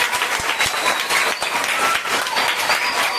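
Steady applause from an audience at a Tamil children's storytelling session, a dense, continuous patter of many hands clapping at even loudness throughout.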